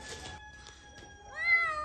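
A cat meows loudly and insistently close by, a rising drawn-out cry near the end after fainter calls, among a group of newly acquired cats.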